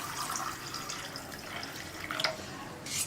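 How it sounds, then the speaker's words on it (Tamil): Water poured from a tap into a container while making lemon juice, a steady trickling splash with a brief drip near the end, close and fairly quiet. "தேவையான அளவுக்கு தண்ணி ஊற்றிக்கலாம்."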